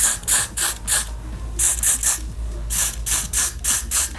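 A trigger spray bottle spritzes down a lace front wig in quick repeated bursts, each a sharp hissing puff with a clicking pump, fired in close, loud clusters.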